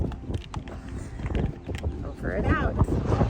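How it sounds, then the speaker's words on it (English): Strong afternoon wind at a desert campground on White Sands Missile Range buffets the microphone with a heavy, continuous low roar and gusty rumble, with muffled voices mixed in. "The winds have picked up."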